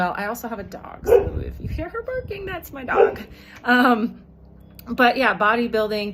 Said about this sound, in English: So if you hear her barking, that's my dog.